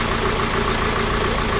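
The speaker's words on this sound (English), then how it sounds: "you need to warm up your engine for 15 minutes on idle." A 2007 Ford Transit Connect engine idles for warm-up before an oil change, a steady, even mechanical hum with a dense broadband noise throughout, close and constant with no talking.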